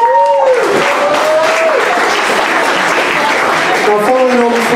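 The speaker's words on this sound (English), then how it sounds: "Let's give that jazz band an amazing round of applause." Loud audience applause for a jazz band, continuous crowd clapping throughout, with a voice speaking over it at the start and again near the end.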